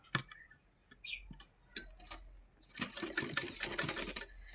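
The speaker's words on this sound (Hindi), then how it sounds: "तो इसके ऊपर हम लगाएंगे अब सिलाई।" A sewing machine stitches piping onto a blouse, starting with scattered clicks and short bursts before settling into a rapid, steady run of stitches near the end, close and clear.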